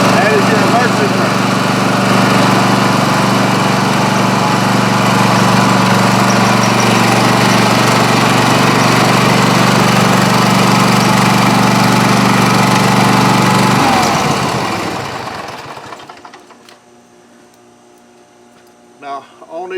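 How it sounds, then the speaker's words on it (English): A 46-inch zero turn lawn mower engine runs loud and steady at high speed, a constant close drone that then winds down and cuts off near the end, leaving faint background sounds. "on these zero turn lawnmowers, it's just like all of them. You run them on high speed"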